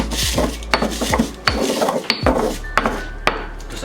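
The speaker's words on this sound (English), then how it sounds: "Throw that in a mortar and pestle and just break it down a little bit." Dried nori is pounded and ground in a mortar and pestle, giving a quick series of sharp knocks and scraping, crunching rubs, close and fairly loud with no voices.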